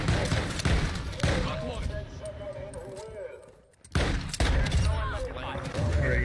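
Gunfire in a Call of Duty shooter game: loud, sharp shots in bursts under continuous talking, with a brief lull before the firing resumes.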